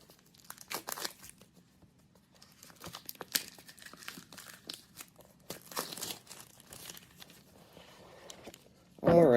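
A package is cut and pulled open with 3D printing snips, bringing close crinkling, tearing and crunching of packaging in bursts separated by quiet pauses, with a voice briefly at the end.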